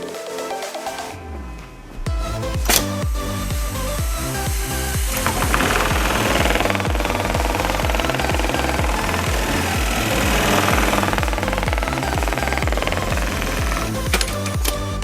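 An NT-3420G fully programmable industrial pattern sewing machine with a 300x200 sewing area runs at speed, loud and close, with a rapid rhythmic mechanical hammering that continues steadily after a short pause near the start.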